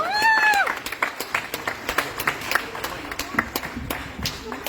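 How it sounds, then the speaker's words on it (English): A crowd claps and cheers at a St. Landry end-of-school bash, with scattered sharp claps over a lively din after a brief whoop at the start. "make some noise, clap it up, clap it up, clap it up"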